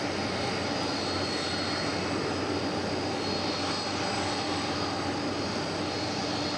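A steady, loud jet engine roar fills an airport at DFW, with the airplane's broadband rumble and whine holding constant and close, and no breaks.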